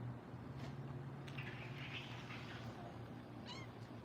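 Faint meows from a cat, with at least one short call near the end, sit low under a constant background hum and noise.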